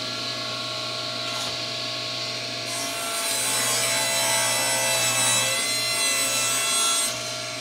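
A table saw crosscuts a wide wood panel using a crosscut jig, the motor's steady whine rising as the blade bites into the wood for a sustained, loud cut before easing off near the end.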